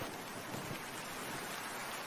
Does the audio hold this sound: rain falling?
yes